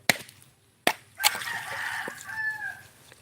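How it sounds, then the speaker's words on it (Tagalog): Gamecock roosters tethered in a yard crow and cluck nearby, with sharp knocks and a long drawn-out crow rising over faint background noise. "Maraming manok dito"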